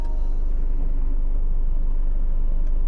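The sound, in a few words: Isuzu MU-X 3.0 engine starting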